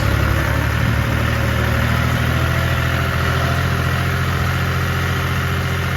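A tractor engine runs steadily nearby with a loud, low, throbbing rumble that holds constant the whole time.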